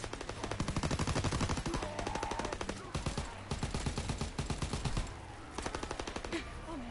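Rapid bursts of light machine gun fire in a World War II video game, loud and close, with dense repeated shots running almost continuously across the clip with brief pauses between bursts.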